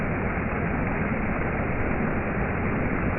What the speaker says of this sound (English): It's raining now, you might hear it